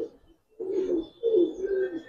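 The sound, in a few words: giribaz pigeons cooing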